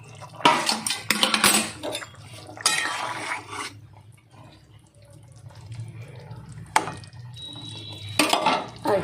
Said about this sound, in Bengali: এবার ঢাকনাটা খুলে আলুটা সিদ্ধ হয়েছে কি দেখে নেবো।